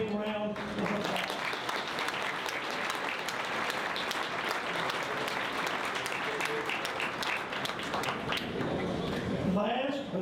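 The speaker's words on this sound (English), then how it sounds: "Please help me give all these wonderful industry sponsors and partners a big round of applause." Sustained audience applause for industry sponsors and partners at the Taste of North Carolina food event at Pinehurst Resort, a steady wash of clapping lasting about ten seconds with some talk mixed in.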